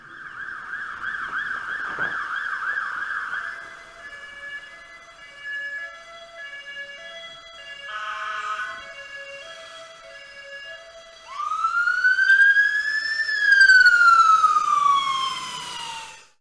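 An emergency service vehicle's siren wails loudly in traffic, a steady tonal blare shifting into a rising and falling yelp, close and clear with road noise beneath and no talk.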